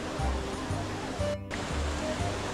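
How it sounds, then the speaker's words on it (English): Water from the Trevi Fountain in Rome splashes and rushes in a steady, loud roar, with murmuring voices of people nearby underneath. "The splendor of Trevi Fountain."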